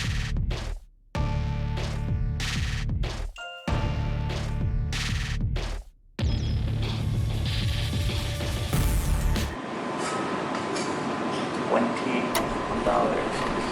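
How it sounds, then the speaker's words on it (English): A chop saw fitted with a metal-cutting blade slices through silver metal stair nosing caps, several loud bursts of cutting separated by short pauses, then a steadier grinding wind-down with a high whine, close by. "let's show you how we do it on a chop saw. And this chop saw has a metal blade on it."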